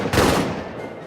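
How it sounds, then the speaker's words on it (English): A short, loud volley of rifle fire in the trench-warfare game All Quiet in the Trenches: a sharp crack that fades quickly into a rolling echo. "A lot of bullets being exchanged"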